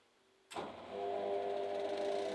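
An Indesit WIE 107 washing machine starts up after an electronics repair: a sudden click, then a steady motor hum with a whine that settles into continuous running.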